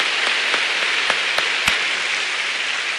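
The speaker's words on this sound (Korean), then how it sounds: "주님께 한번 박수로 감사드리십시다." Church congregation applauding in thanks during a sermon, a steady dense wash of clapping from many hands with a few sharper nearby claps standing out, no talk over it.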